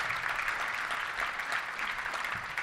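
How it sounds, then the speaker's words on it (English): A crowd applauds steadily at a Little Rock Touchdown Club luncheon, a dense wash of clapping that holds evenly for a few seconds at a moderate distance. "give our volunteers, led by Debbie Wyman, a big round of applause"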